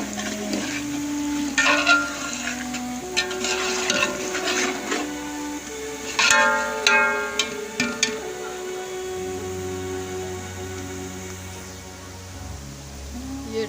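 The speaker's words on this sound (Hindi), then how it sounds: "हमारा प्याज गोल्डन हो गया है, अब इसमें मसाले डाल रही हूँ।" Spices added to golden fried onions in a pan while cooking chana pulao, a soft steady sizzle under scattered clinks and scrapes of a spoon against the pot.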